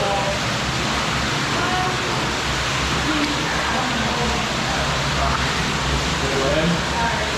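Steady broadband rush of a waterfall inside McFail's Cave, constant and enveloping at close range, with voices talking intermittently over the roar.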